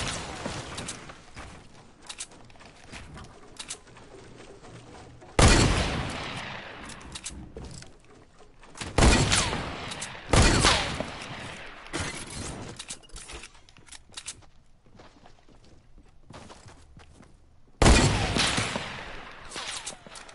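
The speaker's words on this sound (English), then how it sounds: "Who else is shooting at me?" Gunfire in Fortnite Battle Royale: several loud, separated bursts of shots with crackling tails, spaced between quieter stretches of scattered clicks and background noise.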